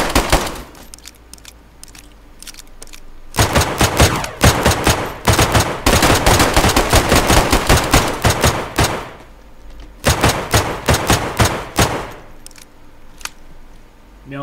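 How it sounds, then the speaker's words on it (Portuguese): Loud rapid gunfire in DayZ, including M16 fire, in long dense automatic bursts separated by brief pauses, close and sharp, with some quieter shots in between. "Quem quiser atirar, pode atirar."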